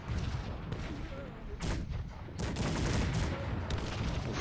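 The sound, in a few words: cannon and gunfire in a battle, from video game Cossacks 3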